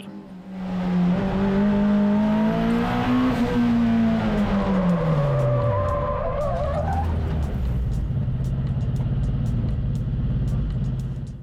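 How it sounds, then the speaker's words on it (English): A Honda-swapped Ferrari race car on a track spins out with its engine revving loud and close, the pitch climbing and then falling as tires skid, then settles into a low rumble as the car slows. "Coming out of Cotton Corners and into Grapevine, I took it with a little bit too much speed and lost the rear end."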